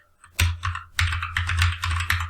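Bursts of fast keystrokes on a computer keyboard typing an SQL query, loud and close, with a brief pause after the first few taps and then steady rapid clicking.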